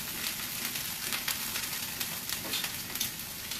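Steady, close sizzling of vegetables and tempeh frying in a stir fry pan, a bright continuous crackle with small pops and no talk.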